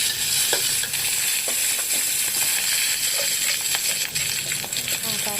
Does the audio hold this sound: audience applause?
no